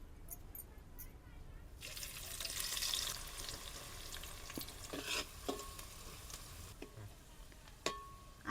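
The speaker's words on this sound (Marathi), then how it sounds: "परत या तेलामध्ये आपल्याला मसाल्याचा कांदा परतून घ्यायचा आहे." Masala onion fries in oil for egg dum biryani. A soft, continuous sizzle runs under scattered spoon clinks and stirring scrapes, and faint background sounds come and go.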